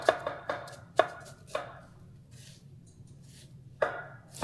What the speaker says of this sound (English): Everyone knows how to chop onions.